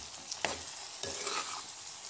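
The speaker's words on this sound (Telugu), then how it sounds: "బజ్జీలు వేసుకొని మంచిగా కలిపేసుకోవాలి." Bajjis being stirred into a sizzling masala in a pan, a spoon scraping and clinking twice against the pan over a steady hiss of frying, with no talk.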